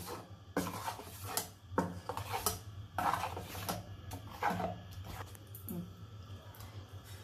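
Ground paste being stirred into curd in a bowl, giving soft, irregular rubbing and scraping strokes that repeat in bursts over a low steady hum, fairly close and with no talk.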